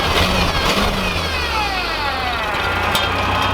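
Old equipment engine from an abandoned racetrack running steadily, a low mid-pitched drone with slight revving variations, fairly close and continuous with no talk over it.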